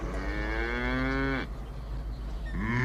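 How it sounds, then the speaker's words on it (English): Cattle lowing in two long, loud moos, the first drawn out for over a second and the second starting near the end, with no talk over them. "They see cows."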